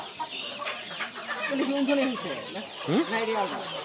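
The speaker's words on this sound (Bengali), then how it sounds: "এটা হলো টাইগার মুরগি" Tiger breed chickens on a farm in Bakshiganj, Jamalpur, cluck in short, uneven bursts at moderate distance, with people talking over and between the calls.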